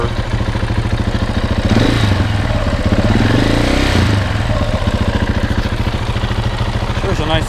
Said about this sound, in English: There's a nice sounding motor.